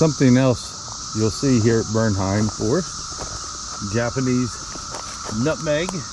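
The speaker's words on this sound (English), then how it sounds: "You can really hear the cicadas right now." Cicadas buzz steadily in a Kentucky forest at Bernheim Forest, a sustained high drone running the whole time beneath someone talking close by.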